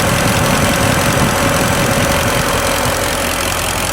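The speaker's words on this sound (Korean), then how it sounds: "엔진 소리는 굉장히 좋네요." A Kia Mohave with a 460 twin-turbo gasoline engine and a Bosch electric fan idles in a steady, close, even hum with a faint mechanical rattle and no voices.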